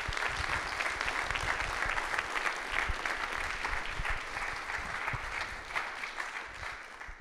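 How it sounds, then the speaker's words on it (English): Audience applause at an inaugural professorial lecture, a dense, steady roar of many hands clapping together, sustained at an even level for several seconds before easing slightly at the end, with no talking. "please join me in congratulating you with some applause"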